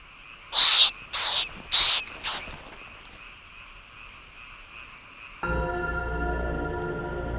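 Four harsh, hissing owl screeches come in quick succession against a quiet night backdrop, then a steady low droning sound takes over.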